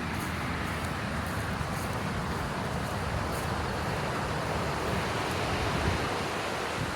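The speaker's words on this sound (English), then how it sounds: "they've got a river that is quite loud." A loud river rushes beside an outdoor skate park in Delavan, Wisconsin, producing a steady, dense roar of flowing water that fills the whole stretch without pause or voices.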